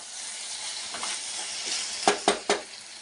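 Tomato frying in a pan gives a steady sizzle throughout, broken near the end by three sharp knocks of a spoon against the pan.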